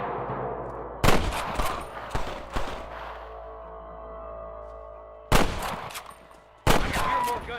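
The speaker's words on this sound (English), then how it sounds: "gunshots." In the video game Red Dead Redemption, sharp gunshots ring out in clustered bursts of several rapid cracks, separated by quieter stretches of low rumbling ambience.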